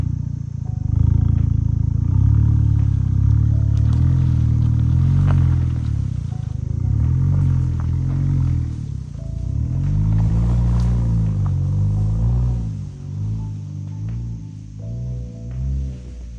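All-wheel-drive vehicle grinds through mud on an abandoned property, its engine rumbling loud and close and surging in waves as it pushes on.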